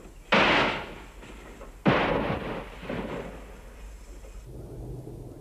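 Two loud, booming mortar blasts in jungle warfare, each a sharp broadband crack with a long rumbling decay, the second following about one and a half seconds after the first, then fading into quieter ambient noise.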